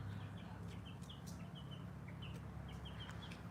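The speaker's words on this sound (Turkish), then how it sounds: "Bu Yusuf'un horozu arkadaşlar." A farm rooster clucks repeatedly in short bursts close by, over a continuous low rumble of outdoor background noise, with no talking.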